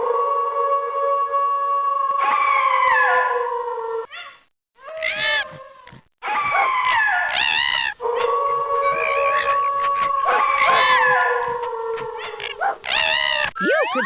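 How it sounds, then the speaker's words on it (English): A video game's canine chorus of wolf, coyote, fox and dog howls, long rising and falling wails overlapping at close range, loud and continuous apart from two brief pauses. "Click on the wolf, coyote, fox, and dog to hear their canine chorus."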